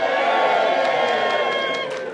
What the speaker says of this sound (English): All right, everybody, big cheer.